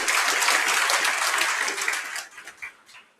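An audience at a motivational talk claps together in a dense, loud burst that holds for about two seconds, then thins into scattered, fading claps.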